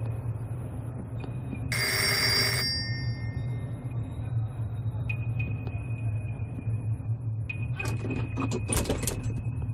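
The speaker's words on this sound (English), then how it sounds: "phone ringing?" A phone booth telephone rings in the video game Reveil, a bright burst of bell-like ringing for under a second over a steady low ambient hum, followed later by scattered clicks and faint tones.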